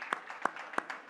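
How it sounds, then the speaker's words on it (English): A few scattered hand claps from an audience at a crypto festival event, coming at a slow, uneven rhythm and fairly faint, with no voices. "I think a big round of applause for Sonia and her team at Bitcoin Events."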